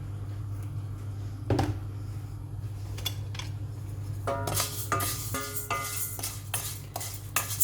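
Vermicelli and rice are sautéed and stirred in a pot, giving a faint sizzle with scraping and clinking spoon strokes that grow busier and more rhythmic toward the end.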